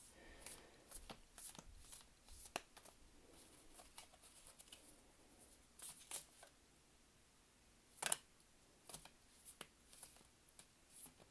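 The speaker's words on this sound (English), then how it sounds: "This deck, for whatever reason, does not like being shuffled like that." Tarot cards are shuffled in quick riffling bursts and soft taps, irregular and close, with sharper snaps now and then in a quiet room.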